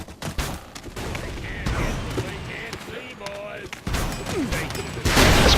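Gunfire from the blocky multiplayer shooter Ace of Spades, a few sharp shots cracking among busy game noise, with a louder burst near the end and a player's voice talking over parts of it.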